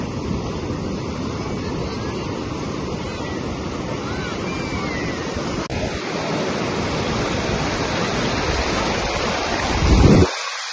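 Sea surf rolls onto Puri beach as a steady, loud roar of breaking waves mixed with wind buffeting the microphone, swelling briefly near the end.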